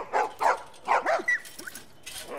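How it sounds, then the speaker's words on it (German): Dogs in The Last of Us barking several times in quick bursts near the start, then softer yips and whimpers trailing off. "These dogs are all accounted for."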